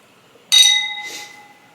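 Glasses clink together in a toast, one bright ringing chink with sustained tones that fade over about a second, close and clear with no talking.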